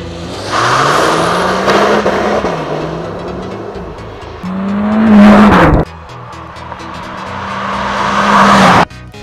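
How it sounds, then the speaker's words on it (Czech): A Renault Mégane GT doing a launch-control start at full throttle, its engine roaring loud and close as it climbs through the gears with brief shift dips, then a second hard pull that cuts off abruptly. "dáte brzdu, plný plyn, pustíte brzdu a auto vystřelí z 0 na 100 za 7 vteřin"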